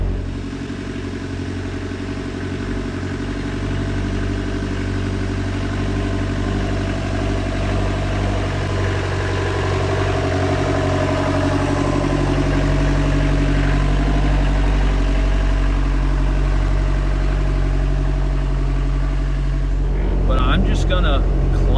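A diesel-powered Jeep TJ Wrangler with a doubler crawls slowly up a hill, its engine a steady low drone throughout, with louder rattling and knocks near the end; someone talks over it.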